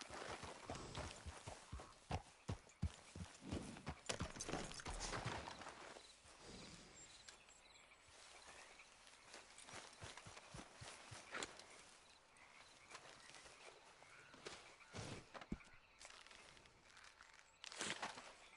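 Horse hooves clip-clopping in Red Dead Redemption 2, a quiet, steady run of hoofbeats over a busy mix of game ambience, with clusters of sharper steps throughout.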